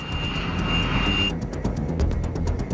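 An A-10 Warthog jet aircraft flies past with a broad, steady engine roar and a high whine that drops away partway through, loud and sustained without any voices.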